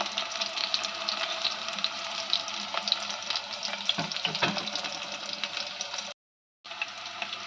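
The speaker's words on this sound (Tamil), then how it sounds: "வெங்காயம் நல்லா பொன்னிறமாகணும், அதுவரை வதங்கணும்." Onions sautéing until golden in a pan for a garfish curry, a continuous hissing sizzle with occasional stirring knocks, near and steady before a brief cut to silence and a return.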